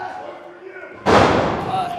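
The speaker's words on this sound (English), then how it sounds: "A pair of body slams from Matt Strong." Wrestler body slammed onto the ring canvas at a wrestling match: one heavy, sudden thud about a second in, followed by a broad ringing crowd-and-arena wash as a commentator talks.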